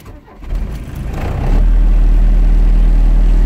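A 1981 Volkswagen Rabbit diesel pickup cranks briefly and catches, then settles into a loud, rough, heavily vibrating diesel idle that stays steady to the end.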